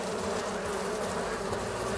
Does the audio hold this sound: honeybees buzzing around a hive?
yes